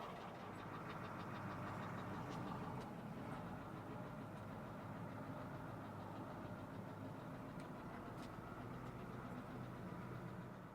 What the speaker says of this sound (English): I'm going to leave the truck running for a minute